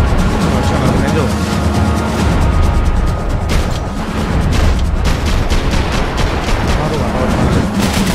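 Max Payne video game gunfire plays as dense, continuous rattling shots and booms, loud and close throughout, while a player talks over the action.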